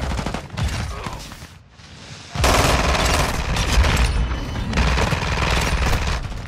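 An ISO 45 submachine gun fires in Call of Duty MW2 on the Shipment map: a short burst, a brief lull, then loud sustained rapid automatic fire to the end.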